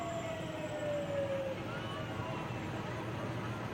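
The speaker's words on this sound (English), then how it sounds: "Sharon Township fire truck right in front of us." A Sharon Township fire truck's siren sounds at a parade, a steady rising wail holding for a second or so over a continuous outdoor crowd rumble.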